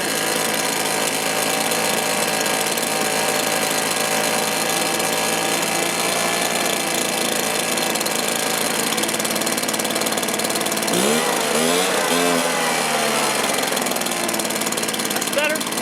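A Stihl two-stroke engine runs after a carburetor low-side adjustment, holding a loud, steady buzzing idle before a brief rising and falling rev near the end.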